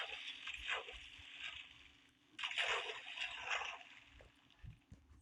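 In a video game, water splashes and sloshes in two soft bursts with a quieter slosh at the end, faint and fairly close, with no talking.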